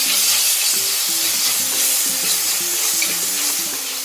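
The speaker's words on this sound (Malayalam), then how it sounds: "നമുക്കിതിലേക്ക് തക്കാളി ഇട്ട് കൊടുക്കാം. നന്നായിട്ട് വഴറ്റിയെടുക്കുക." Tomatoes and onions being sautéed in a pan for a fish curry give a loud, steady sizzle with the scrape of stirring throughout and no talk over it.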